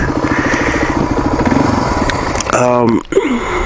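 A dirt motorcycle engine idles steadily in neutral at an off-road vehicle area, its close, loud, even putter running under speech, followed by a brief clunk and a short rev near the end.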